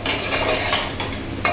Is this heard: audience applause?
no